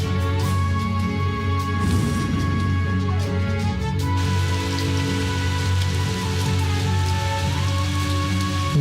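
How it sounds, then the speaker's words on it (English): Steady rain pours down in a dense, even hiss that runs unbroken throughout, with a low tonal drone and faint musical tones layered beneath it. "The rain is potent enough to even carve rivers so he might traverse impossible places."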